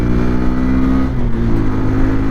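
Bajaj N125 motorcycle accelerating in first gear on a highway, its exhaust giving a loud, close, continuous engine drone with steady harmonics that hold without a break.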